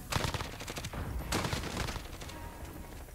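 M13 assault rifle fire in Call of Duty: Modern Warfare rattles out in rapid automatic bursts, close and loud, with a short pause between volleys.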